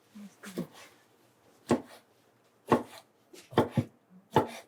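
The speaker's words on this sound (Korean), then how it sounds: "그리고 이거는 그냥 링으로 써는 거야." Knife slicing a cleaned squid into rings on a cutting board: five or six sharp, close chops in an uneven rhythm, with quiet pauses between them.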